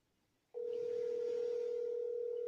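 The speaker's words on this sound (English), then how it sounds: "Y'all hear the phone ringing, right?" A telephone sounds a single steady electronic tone that starts abruptly after a short silence and holds evenly and loudly to the end, with no voices.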